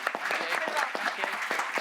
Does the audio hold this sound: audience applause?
yes